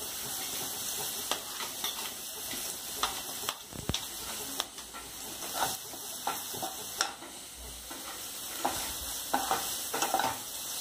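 Green chili sautés in hot oil for Indian-style fried rice, a constant close sizzle with irregular spatula scrapes and stirring knocks running throughout, with no one speaking.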